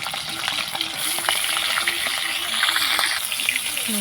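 Two fish heads dropped into hot oil in a pan for a kulekhara greens curry give a loud, steady sizzle and crackle with stirring scrapes throughout, a faint voice now and then beneath it.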